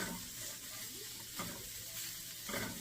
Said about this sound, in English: So I'm going to let that cook until the onions are tender.